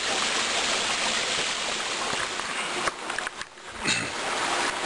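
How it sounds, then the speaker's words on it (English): A creek flows steadily and loudly up close as someone walks upstream along it, with a few brief splashes and scuffs near the end. "The creek's down, so we're actually walking up the creek."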